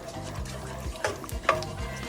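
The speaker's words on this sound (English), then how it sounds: "All right, guys, so now we're gonna stir it up." A spoon stirring Jamaican brown stew chicken in a pot, giving wet sloshing and scraping sounds in an uneven rhythm, with a couple of sharper knocks against the pot and a faint sizzle beneath.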